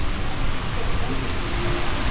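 Rain at a temple during the Loy Krathong festival in Sukhothai, Thailand: a steady, dense hiss of falling rain hitting surfaces, close and continuous, with no voices.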